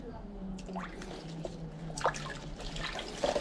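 Water trickles and drips as roots of an Aglaonema Two Tone Moonstone houseplant are rinsed, with uneven splashes and a few louder spatters near the end, while a person talks over it.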